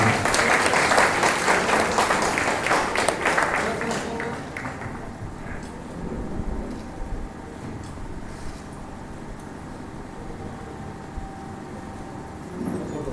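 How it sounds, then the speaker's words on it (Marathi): An audience claps loudly at a felicitation ceremony, a dense burst of applause that dies away after about four seconds into quieter room ambience. "आपण टाळ्या वाजवत त्याच्याबद्दल आपल्या सगळ्यांचा"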